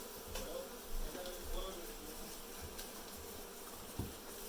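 Honey bees buzz steadily during a hive cutout in Dorrance, Kansas, while smoke is used on the comb. A dense, close drone continues throughout, with occasional louder swells and knocks, as people talk quietly over it.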